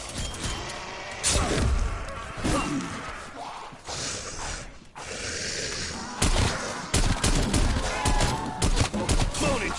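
Shotgun blasts boom among the chaos of a Call of Duty: Black Ops Cold War Zombies round, several heavy shots mixed with impacts, whooshes and a loud game soundtrack.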